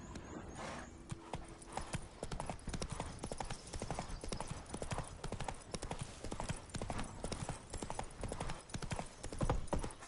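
Horse hooves clip-clop steadily in The Witcher 3, a continuous rhythmic trotting of a game horse, near and fairly loud, with a voice briefly urging the horse on.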